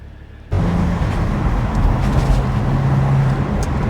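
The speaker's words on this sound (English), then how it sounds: "So the engine's got a lovely little purr. It's very smooth. It's a straight 6 petrol." Steady, smooth idle purr of a BMW Z4 2.5i straight-six petrol engine, starting abruptly and holding a constant low drone close by with no talk.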